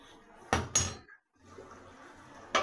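Metal lid set onto a pot of bhetki fish curry: two close, sharp clangs of metal on metal a moment apart, then a soft settling rattle and a further clink near the end, with no talk.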